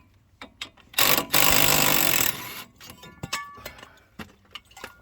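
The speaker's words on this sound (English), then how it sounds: "going to remove the rotor there" Brake rotor being pulled off a car wheel hub during a brake pad and wheel bearing check: a loud harsh grinding scrape of about a second and a half, followed by scattered metallic clinks and knocks close by.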